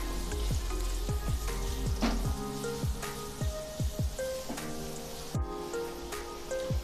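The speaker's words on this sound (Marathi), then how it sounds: "हिरवी मिरची सुद्धा आपण यामध्ये टाकून घेणार आहोत आणि हा छान सॉफ्ट होईपर्यंत आपण परतून घेणार आहोत।" Onion and green chili sautéing in a pan until soft, with a steady crackling sizzle and repeated sharp spatula taps and scrapes at an uneven pace, close by with no talk.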